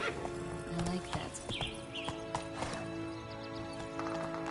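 Roach, the horse in the video game The Witcher 3, trots with a steady, close clip-clop of hooves. Game music and ambience play underneath, and a voice can be heard briefly.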